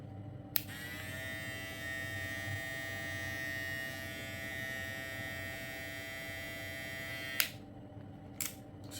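A SUPRENT MECHA HC625 electric hair clipper runs close by with a steady high-pitched motor buzz for about seven seconds, then switches off, followed by a couple of faint clicks.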